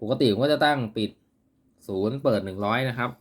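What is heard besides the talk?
No everyday noises stand out.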